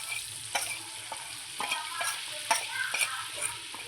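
Cumin seeds crackle and sizzle in hot oil for Mumbai-style pav bhaji, a steady bright hiss broken by sharp spoon scrapes and taps against the pan.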